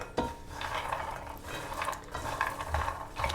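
Cashew nuts toast in a dry frying pan, stirred so they scrape and rattle against the metal in soft, uneven bursts, close up and fairly quiet with no speech.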